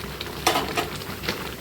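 Raw mango sweet-sour-spicy pickle is stirred in a pan with chili flakes, giving a short close scrape and soft sizzle over a low background hum.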